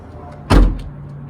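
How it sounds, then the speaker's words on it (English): A car door on a Honda CR-V swings shut with a single solid, close thud and a short rattle trailing after it, set against a quiet background. "So let me close the door."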